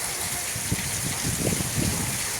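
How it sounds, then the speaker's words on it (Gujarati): Heavy rainwater pours down during a downpour at a home and shop, a continuous rushing gush with irregular splashing surges, close and fairly loud. "એ પાણી પણ બહુ બધો પાણી પડે છે"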